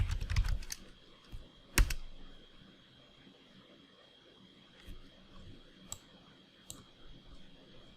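Keys tapped on a computer keyboard, a quick burst of clicks at first, then scattered single clicks, close and quiet against a faint hum.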